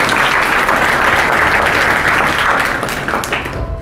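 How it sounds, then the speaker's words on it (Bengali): A room full of students applauds a classmate at a coaching academy, a dense, loud, continuous burst of clapping that fades slightly toward the end, with no talking over it. "অসিতের জন্য একটা হাততালি দাও।"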